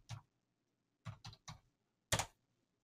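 Four separate keystrokes on a computer keyboard, close and fairly quiet: one tap, a quick run of three, then a final harder press, like entering a command and hitting Enter.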